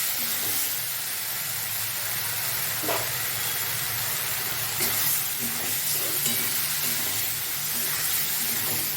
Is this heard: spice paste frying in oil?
yes